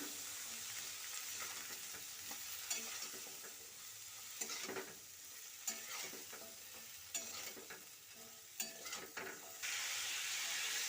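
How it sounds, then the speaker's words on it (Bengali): Malabar spinach stems are stirred into spices in a pan. Soft frying hiss runs underneath as a spatula scrapes and taps in irregular strokes, fairly quiet and close, and the sizzle rises near the end. "পুঁই মিটুলিগুলো দিয়ে আবারও ভালো করে মিশিয়ে নেব"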